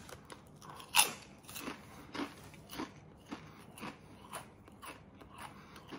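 Crunching and chewing on Red Rock Deli Bourbon Glazed Sticky Ribs potato chips, a sharp crisp bite up front followed by steady close chewing crunches, with no talking.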